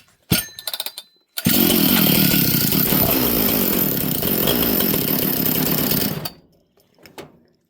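A chainsaw that won't idle properly, with a loose clutch spring, sputters briefly, then roars at high revs for about five seconds before dying away, followed by a few faint knocks.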